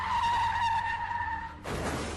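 A car skids with a long screeching tire squeal, then spins out and crashes with a broad noisy impact near the end, loud and close, with no talk.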